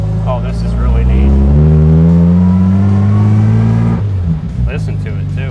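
A 1954 Jaguar XK120 engine revs up, its steady rising drone filling the space close by before dropping back around four seconds, with people talking over it.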